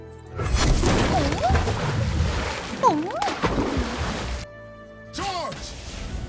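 Barrels blow up in a combo in the Legends of Runeterra card game, part of a pirate burn deck: a loud, dense run of booming crashes with rising and falling tonal sweeps, a brief lull, then one more burst.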